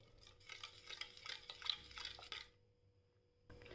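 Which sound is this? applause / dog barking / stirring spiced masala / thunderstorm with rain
stirring spiced masala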